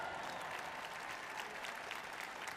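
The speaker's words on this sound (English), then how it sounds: "Let's give him a round of applause." A rodeo arena crowd at RodeoHouston applauds a guest, producing a distant, even wash of clapping from a large audience that holds steady for a few seconds.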